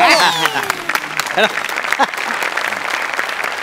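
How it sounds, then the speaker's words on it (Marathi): A studio audience at a Marathi comedy show breaks into brisk clapping that keeps going throughout, with voices calling out over the applause. "मी टाळ्या वाजव ना मॅडम साठी"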